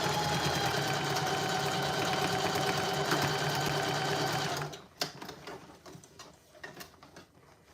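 Sewing machine stitching a tote bag with black thread, running steadily and loudly for several seconds, then stopping abruptly and leaving scattered faint handling clicks and rustles.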